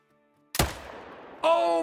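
A rifle shot hits a bighorn ram in the hunting video game Call of the Wild: one loud, sharp crack after near silence, decaying with a short echo, then a brief voiced sound.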